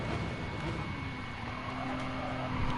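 A GT race car's engine revs hard on track during an endurance race at Bathurst in a racing game, giving a steady, loud, sustained roar with a faint tonal whine and tire noise running through.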